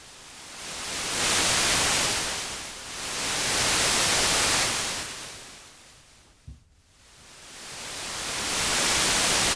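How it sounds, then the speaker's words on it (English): Broadband white noise from the oscillator section of a Therevox ET-5 electronic instrument, swelling and fading in slow waves with one brief drop to near silence, heard alone without talk. "It's just white noise."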